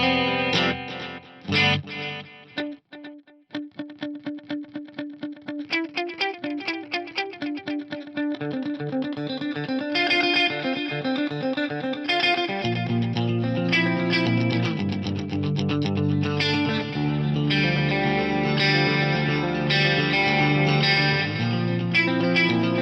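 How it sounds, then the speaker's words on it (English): Electric guitar played through a TC Electronic G-Force effects unit, first dry with plucked notes, then with lush delay synced to tap tempo, repeats trailing and blooming into a dense, echoing wash of chords. "this is without and then with the delay. And I've got this sync to the tap tempo"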